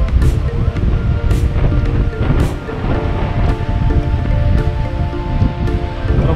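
Waves wash ashore at Jökulsárlón glacier lagoon in Iceland, a steady surging rush mixed with gusting wind noise on the microphone, loud and close throughout.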